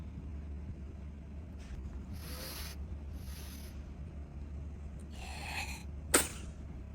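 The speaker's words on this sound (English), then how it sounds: "She was sneezing constantly." Sneezing from a woman or girl in a living room, a few short breathy bursts followed by one sharp sneeze near the end, over a steady low background hum.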